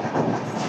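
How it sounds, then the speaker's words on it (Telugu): Simhadri Express 17239, running from Guntur to Visakhapatnam, rolls in at platform 1 with a steady broadband rumble of wheels and coaches, close and loud, a continuous rail roar with no talk. "17239 గుంటూరు నుంచి విశాఖపట్నం వెళ్ళే సింహాద్రి ఎక్స్ప్రెస్ అయితే ప్లాట్ఫామ్ నెంబర్ 1 మీదకి వచ్చింది"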